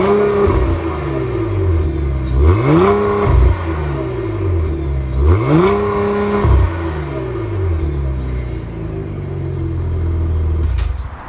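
A 2022 Cadillac CT4-V Blackwing with a twin-turbo 3.6-liter V6 idles with a steady exhaust rumble, then is revved twice in rising, roaring sweeps that fall back to idle, heard up close with no talking.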